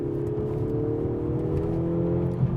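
Mercedes-Benz CLE coupe accelerating hard from 80 to 100 in dynamic mode, a steady rising engine drone heard from the cabin, continuous with no talk.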